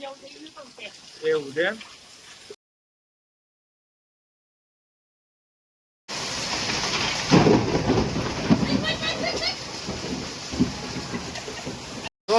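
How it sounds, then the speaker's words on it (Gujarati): Heavy rain with thunder: after a stretch of a person talking and a short silent gap, a dense, loud, steady downpour roars close by with deep rumbling underneath until the end. "આટલો બધો વરસાદ છે"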